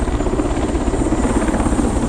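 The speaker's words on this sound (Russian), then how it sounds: "Это один раз в неделю летает вертолет в Распутицу. И вот он тут приземляется." A helicopter comes in to land at a remote riverside village during the spring thaw, its rotor chop loud, close and steady without pause.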